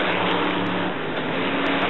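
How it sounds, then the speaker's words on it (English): Brisca F1 stock cars racing at Brafield in the 1985 European championship, a steady loud engine roar filling the whole moment with no pauses or voices. "he's right behind the second car, the 85 car of Ray Tilsley"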